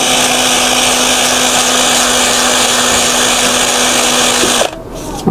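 A power drill spins an electric fan shaft while a small piece of sandpaper smooths it, giving a loud, steady high-pitched whine that runs continuously, then cuts off abruptly near the end.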